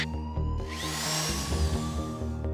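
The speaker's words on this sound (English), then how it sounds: "I'll begin drilling on this side as well." Vault door lock being drilled during a GTA 5 casino heist, a continuous whirring drill tone with shifting pitch and rattling grind, heard alone without talk.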